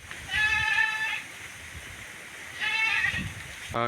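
A goat bleats twice, a couple of seconds apart, fairly close against a quiet outdoor village background in the morning.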